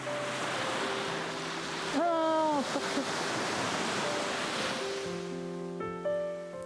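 Ocean waves wash steadily onto a beach during marine litter cleanup, a soft continuous surf hiss with a brief squealing cry and tonal sounds laid over it near the end, while a voice speaks briefly.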